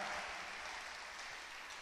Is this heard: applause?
yes